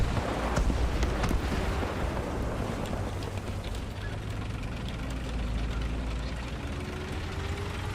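The engine of a Strv 104 main battle tank in War Thunder runs as a loud, continuous low roar with windy, rushing noise layered over it, sustained and steady throughout without a pause.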